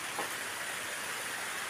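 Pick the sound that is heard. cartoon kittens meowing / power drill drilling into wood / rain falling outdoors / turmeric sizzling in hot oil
rain falling outdoors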